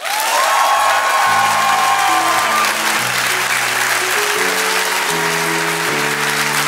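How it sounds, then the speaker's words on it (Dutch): Studio audience applause and cheering at a live Flemish TV show, loud and continuous, with musical tones from the show's band playing underneath. "ik wil graag een David-applaus voor Michael van Peel, Alex Agnew, Thomas Smit, Koen de Bouw"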